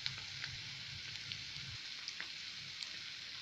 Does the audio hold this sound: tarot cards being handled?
no